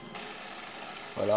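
Helicopter rotor and engine drone in the video game Battlefield 3, a steady broadband whir running throughout, with someone speaking briefly over it near the end.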